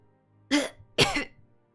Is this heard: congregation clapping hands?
no